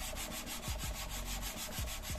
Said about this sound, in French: on entend bien au bruit en fait que ça frotte bien le métal, ça ne glisse pas